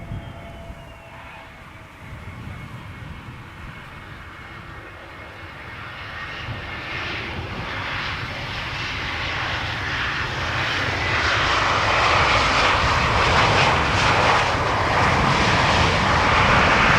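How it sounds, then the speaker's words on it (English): A KLM Embraer 175 on approach to land at Schiphol, its jet engine noise building steadily from a distant hum to a loud, rushing roar, with no voices. "Following this airplane on the glide slope to center is KLM Flight 1818, which is an Embraer 175 returning from Frankfurt"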